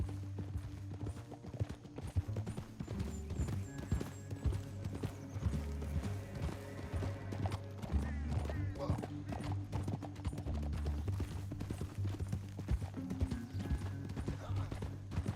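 Horse hooves clip-clop in a steady rhythm in Red Dead Redemption 2, with a horse whinnying, over continuous music and faint voices.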